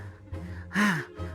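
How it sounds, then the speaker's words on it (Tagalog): A hiker pants heavily after climbing Mount Olis in Atok, Benguet, with several close, breathy gasps and exhales in quick succession, one louder strained breath in the middle. "Hinihingal ako"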